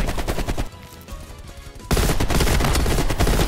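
Sustained gunfire from Call of Duty: Black Ops Cold War in a Domination match, dense rapid bursts that drop to a lighter patter midway and then surge back loud and continuous.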